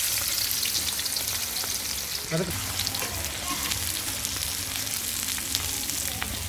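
Onions and greens fry in a pan for chilli fish with a close, steady sizzle and crackle, broken by a brief stirring clatter.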